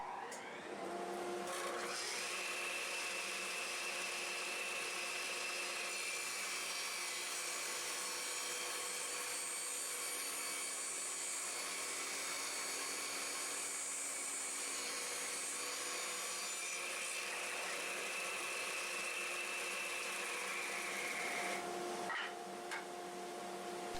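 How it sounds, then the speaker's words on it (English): A power saw fitted with a tapering jig cuts a wooden clapper board, a loud, sustained whining drone that holds steady for about twenty seconds before spinning down at the end. "so I set up my tapering jig to make this cut"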